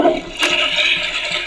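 A short, loud toilet flush sound bursts from a Flush Force toy board game, a brief rushing water whoosh alone without talk.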